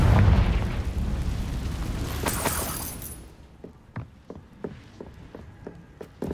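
Explosion from the Confringo blasting spell in the video game Hogwarts Legacy: a loud booming burst that rumbles and fades, then a series of short, fainter knocks or pops at a steady pace.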